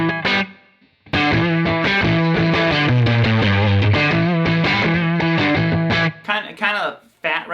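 A Stratocaster electric guitar with delay and reverb plays a loud run of strummed chords and picked notes, the echoes trailing between phrases, with brief pauses near the start and end.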